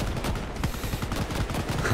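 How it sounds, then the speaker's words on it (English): A boss character firing in the Shatterline video game, rapid bursts of gunfire in a continuous rattling stream, loud and close with no speech. "he's shooting against them"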